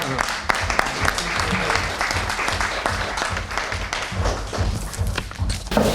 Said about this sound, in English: can we clap a little for the Blue House?